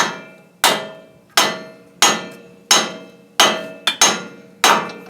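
A hammer strikes a socket set over a front U-joint bolt on a 2007 Dodge Ram 2500 4x4, about eight sharp metallic bangs at a steady pace, each ringing briefly before the next, close and loud.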